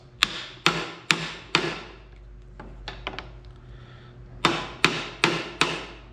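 A hammer taps universal joint caps against their snap rings during a gear swap, giving light, sharp metallic knocks in two groups of four with a few softer taps between, close and clear with no talk.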